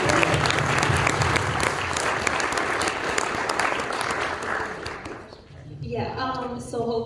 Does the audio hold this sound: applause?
yes